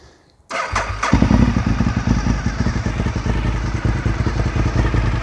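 A 2004 Honda RC51 SP2 motorcycle engine cranks and fires almost instantly after a brief quiet moment, then settles into a loud, close, lumpy idle with a steady throbbing pulse.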